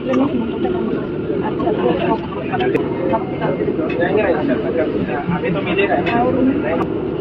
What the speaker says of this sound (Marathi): विमान आहे याच्याने जाणार आम्ही नाशिकला